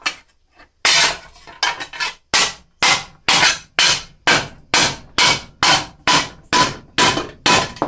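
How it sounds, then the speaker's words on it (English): Steady, regular hammer blows ring out close by, about two per second, each a sharp metallic strike flattening small-diameter copper pipe, with a brief ringing decay. "you just want to keep hammering it like that"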